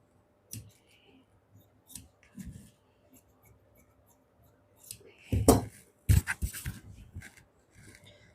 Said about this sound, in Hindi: इसको हम कट कर देते हैं जैसे हमने बैक का कट किया था।